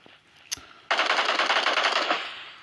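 Sustained automatic machine gun fire in the PUBG Mobile video game, a rapid, loud, unbroken burst lasting nearly two seconds after a brief sharp click.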